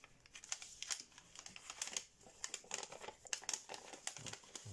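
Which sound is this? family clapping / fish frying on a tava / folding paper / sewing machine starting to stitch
folding paper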